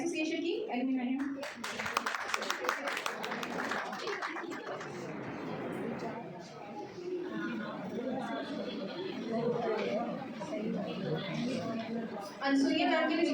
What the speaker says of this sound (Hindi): कृपया जोरदार तालियों से उनका स्वागत कीजिए